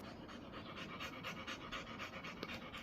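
A tired dog pants rapidly and steadily up close after a walk in Edmonton, Alberta, a quiet rhythmic huffing heard alone.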